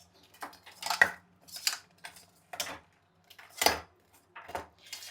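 Melting jaggery is stirred in a pot, with a steady rhythm of scraping, clinking spoon strokes repeating about once a second, close by and with no talk.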